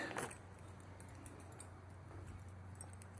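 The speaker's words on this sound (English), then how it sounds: "Let's get the keys." Keys for a Suzuki GSX-R motorcycle jingle briefly at the start during garage maintenance, a quick bright metallic rattle followed by faint scattered clinks over a low steady hum.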